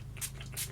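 Mario Badescu facial spray misted in two quick, soft hissing puffs, close and faint.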